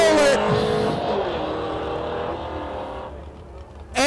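Trucks in a no-prep drag race at Newport Raceway, with a loud, close engine roar that revs and shifts, then fades steadily as the truck pulls away, before another engine surges in at the end.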